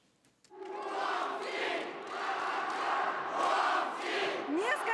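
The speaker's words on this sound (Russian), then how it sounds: "Шум трибун." Hockey fans in the fan zone at Krasnaya Zvezda stadium in Omsk roar and shout together, a sustained swelling crowd cheer that starts abruptly after a brief quiet moment and stays loud throughout.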